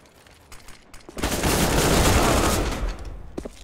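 Counter-Strike gunfire on the Train map as a player runs and guns: a brief close burst of rapid automatic shots swelling loud in the middle, with a few faint clicks before and after.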